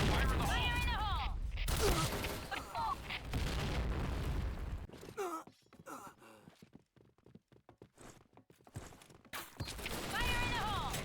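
Grenade blasts in the Point Blank shooter game: deep booming bursts amid gunfire and clattering effects, with in-game voice callouts and a brief quiet gap between loud stretches.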